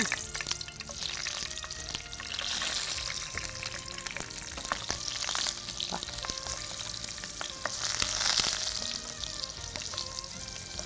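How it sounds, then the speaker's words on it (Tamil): Green chillies sautéing in a pan over a medium flame, a loud, continuous close-up sizzle and crackle with occasional stirring, no talking. "இந்த பச்சை மிளகாயை ஒரு 10 செகண்ட் இல்லை 20 செகண்ட் இப்படி வதக்கிட்டு"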